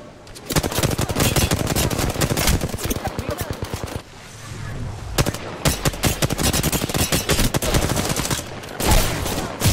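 Rapid automatic gunfire in the video game Apex Legends, dense bursts of shots that run almost nonstop and loud, with a brief gap partway through, while players talk excitedly over it.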